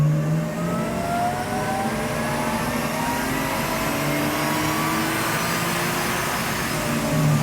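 A supercharged Lexus IS200 drift build on a dyno, held at 75% throttle for a power run, its engine droning loud and steady as the pitch climbs slowly across the pull.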